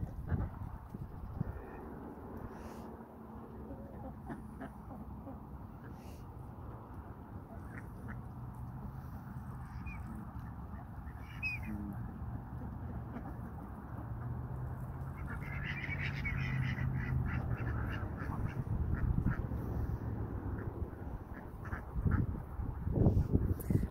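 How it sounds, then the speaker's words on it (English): A flock of ducks in a barnyard quacks softly and steadily, the calls fairly distant and mixed with low rustling and background noise, rising a little toward the end. "Here are all the ducks eating ice like it's going out of style."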